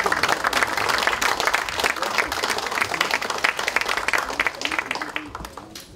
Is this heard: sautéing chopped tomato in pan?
no